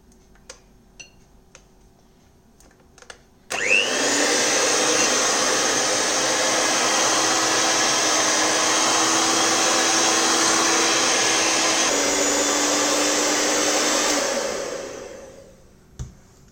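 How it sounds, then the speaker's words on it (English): Sugar and salt being whisked into egg and oil for a carrot cake batter: a loud, steady whirring drone that starts abruptly, runs unbroken for about eleven seconds, then fades out. "Now we will again whisk."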